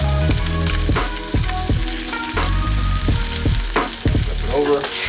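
Barramundi sea bass fries in a covered pan, a loud dense sizzle and spatter running throughout, punctuated by repeated low thuds and knocks.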